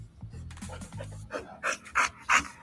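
A happy dog panting outdoors, quick rhythmic breathy huffs close to the microphone that grow louder toward the end, with a few low vocal sounds near the start.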